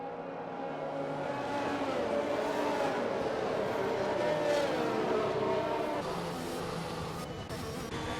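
Formula 1 race cars in F1 2021 weave to warm their tyres before a restart at the Canadian Grand Prix, a sustained engine drone with rising and falling revs, under faint commentary.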